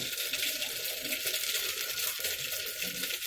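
Mustard seeds spluttering in hot oil in a pan, a dense, continuous crackling sizzle that holds steady and close, with no talk.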